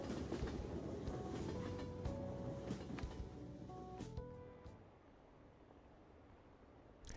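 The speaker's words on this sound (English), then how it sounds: "I'm glad the subway was repaired so quickly." Subway train riding in the video game Persona 5 Royal, a steady rumbling rail noise with faint clicks that fades out near the end, with no talk.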